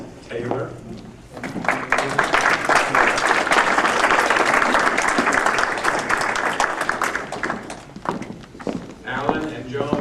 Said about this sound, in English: Let's applaud very loudly for these.